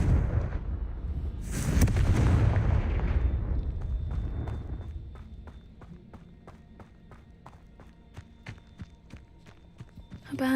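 A big booming blast from the Confringo explosive spell in Hogwarts Legacy rolls out and fades, followed by a run of light rhythmic footsteps and small clicks in a quiet game setting.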